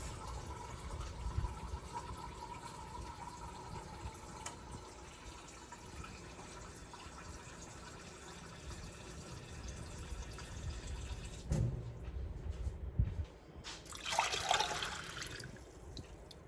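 Water pours into a pot of dry pinto beans, a steady liquid rush and trickle that swells louder near the end, with splashing and dripping under faint kitchen background.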